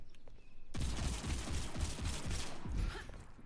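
Main guns fire in the video game Overwatch as a loud, close, rapid stream of shots lasting about two seconds, then stopping abruptly.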